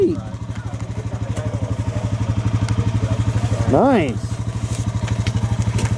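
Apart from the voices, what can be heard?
Can-Am off-road vehicle riding on rough trails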